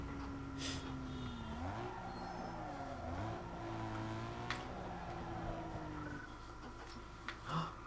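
Car engine revving and whining through gear changes as a car drifts around a course in Need for Speed Underground 2, steady and continuous with pitch swinging up and down, a few faint clicks over it.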